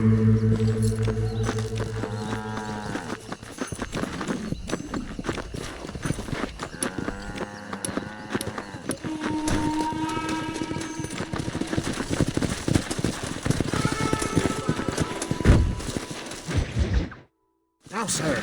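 Horse hooves galloping in Red Dead Redemption, a loud, fast, steady clip-clop running for most of the stretch, with voices talking over it at times before a short drop to silence near the end.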